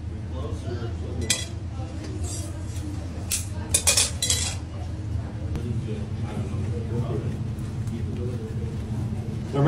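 Utensil scraping and clinking in a bowl while red food coloring is mixed into strawberry cheesecake filling, close, with a few sharper clinks midway over a steady low room background and no speech.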